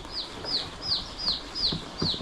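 Chicks packed by the thousands in carton transport boxes give high, sharp chirps that repeat about every third of a second, a clear steady series over a soft background hiss.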